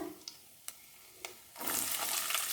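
Dried shrimp and curry leaves frying in oil for a ridge gourd curry, a few faint scrapes and clicks first, then a bright, steady sizzle bursting up about halfway through and holding close and loud to the end.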